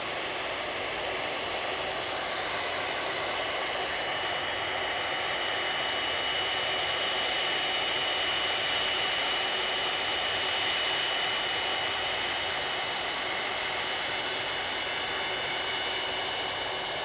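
A jet airliner arriving from New York passes low over a road near Manchester Airport, its engines a steady, broad roar that holds loud and even throughout with no talking.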